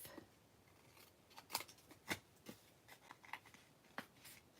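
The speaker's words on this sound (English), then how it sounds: "Then I will take and trim the excess off." Scissors snip through excess paper on a craft card layer, a series of short, crisp cuts at an uneven pace, close and fairly quiet with no talking.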